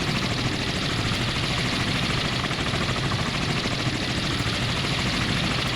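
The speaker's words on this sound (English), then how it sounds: "Okay, so we got a helicopter here." A helicopter in the naval warfare game Sea Power gives a steady, loud, broadband rotor and engine drone that holds unchanged throughout, with no talk over it.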